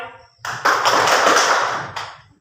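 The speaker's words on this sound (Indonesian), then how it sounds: "Tepuk tangan 3 kali." Classroom students clapping hands on command, a burst of many claps from a group, loud and fairly close, swelling into a ragged cluster and trailing off with a final clap, no talk over it.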